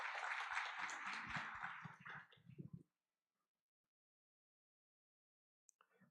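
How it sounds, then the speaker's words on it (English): An audience at a hydrogen industry forum applauds in a warm burst of clapping that swells for a couple of seconds, thins into scattered claps, then stops abruptly, leaving near silence. "please welcome him with a big round of applause"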